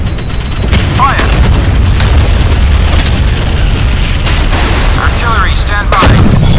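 Naval cannon fire from a warship in the Modern Warships game, including a Monarch Cannon on the Italian ship Duilio: dense booming blasts and rumbling through the whole stretch, with a sharper burst near the end and radio voices faintly underneath.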